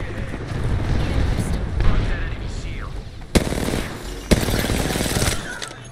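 Rapid gunfire bursts and sharp shots ring out during a firefight in Apex Legends, loud and close with booming impacts, while players talk over the action.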